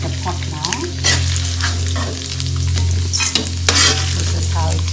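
An ingredient for nasi lemak fries in a pot while being stirred, giving loud, close crackling and clattering over a constant low hum, with irregular sharp bursts and no speech.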